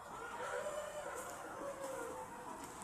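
Chickens at a poultry farm in Quezon Province, a steady chorus of clucking and faint crowing that carries through the whole stretch at moderate level, with no talking.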